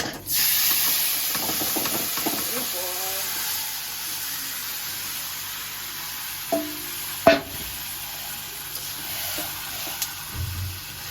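Marinated chicken dropped into hot oil with fried bay leaves, a steady sizzling hiss with a few stirring scrapes and clinks of a utensil against the pan.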